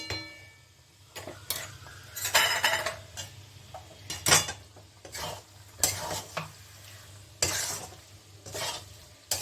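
A spoon stirs vegetarian jackfruit curry (echorer kosha) in a pot, with extra ghee added: faint sizzling is broken by repeated metallic scrapes and clinks against the pan, close by and uneven.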